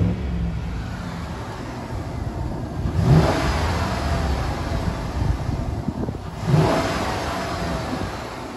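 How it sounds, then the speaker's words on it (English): A Chevrolet Silverado LT 4WD pickup idles with its door open, then gets two quick throttle blips a few seconds apart, each a short rising roar that falls back, over steady wind noise. "we're gonna do a quick rev test"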